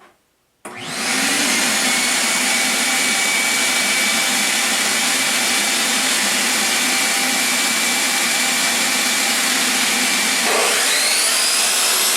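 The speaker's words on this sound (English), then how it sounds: "Okay, and the shop vac." A shop vac switches on with a sudden loud rush and keeps roaring at a steady, close, high-pitched whine, its tone shifting slightly near the end.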